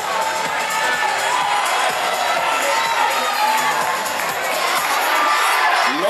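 A crowd of fans at a youth motocross race shouts and cheers steadily throughout, a dense roar of voices with scattered whoops, close and loud.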